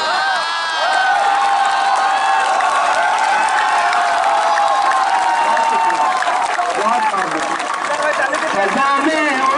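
An audience at a poetry gathering at JNU University applauds and cheers. Loud, sustained crowd noise fills the whole stretch, with a raised voice carrying over it throughout.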